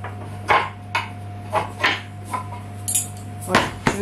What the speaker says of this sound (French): On va découper un peu de la chair.